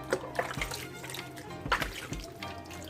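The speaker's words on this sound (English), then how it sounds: "So I'll just go ahead and wash them." Tomatoes being washed in water: a few light splashes and drips at uneven intervals, close and fairly quiet, with no talking.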